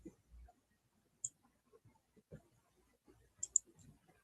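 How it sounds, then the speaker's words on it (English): A computer mouse clicks a handful of times, sharp isolated ticks scattered over a few seconds amid faint low handling noise, close and quiet. "Clicking all the wrong stuff."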